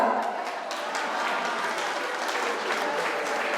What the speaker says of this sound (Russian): эти аплодисменты тебе, дорогая